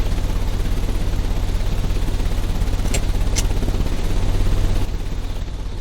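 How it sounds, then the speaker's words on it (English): An engine in the video game Sherlock Holmes: Crimes & Punishments runs with a loud, constant low rumble and droning throb, with a couple of faint clicks partway through and a slight drop in level near the end. "The engine has started."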